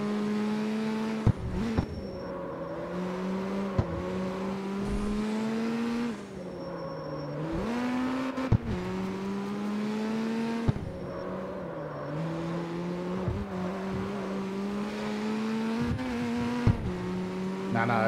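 A race car in the CarX Street video game drives hard, its engine drone rising and falling through repeated shifts and revs, with brief clicks and a short tire squeal across a steady loop.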